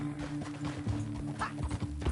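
Hooves clip-clop in a quick galloping rhythm as a horse runs through a canyon in a video game, mid-level and steady under game sound with a brief whinny-like accent.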